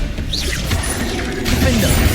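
A Bombarda blasting spell goes off in Hogwarts Legacy, a short crashing magical impact amid a dense, loud mix of whooshing effects and battle clatter.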